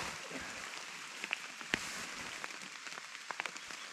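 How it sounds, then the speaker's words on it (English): Light rain patters on a tent during a bikepacking trip in Sweden, a dense, faint hiss broken by a few sharper drop taps, close and steady. "I don't mind the rain."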